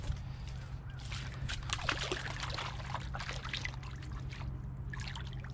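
A heavy nutting stone pulled from muck is rinsed off, water pouring and splashing over the rock in a steady, close wash with no talking.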